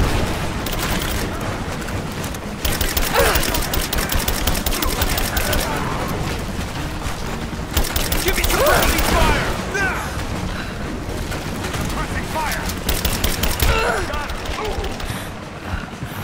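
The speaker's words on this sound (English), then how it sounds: "Goddamn grenades again." Grenade explosions and combat noise in the video game Rise of the Tomb Raider, with loud booming bursts and crackling blasts recurring across a dense, noisy battle soundscape, and a voice speaking at times.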